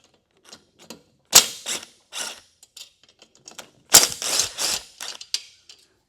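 Screws being pulled from an engine valve cover on a cylinder head give sharp metallic clicks and ratcheting bursts, spaced unevenly with two louder clusters, close and fairly loud with no talking.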